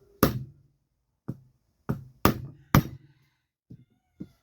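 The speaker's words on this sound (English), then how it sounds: "and I'm gonna tap it. I'm not gonna hit it hard." A part of a 1950s Swiss Monti Super spinning reel is tapped gently to ease out a rub. Seven short, close, sharp knocks come at uneven intervals, the later ones softer, with no talk.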